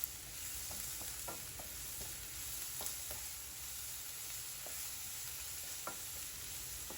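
Sliced onions sautéing in a pan with salt, a soft continuous sizzle under faint scattered stirring clicks, quiet and close, no voices.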